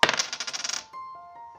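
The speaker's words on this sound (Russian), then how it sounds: "Запоминаем, какой стороной у нас упала монета" A single coin dropped onto a paper divination chart for I Ching coin fortune-telling, spinning and rattling rapidly close by before settling into silence with a faint ringing tone.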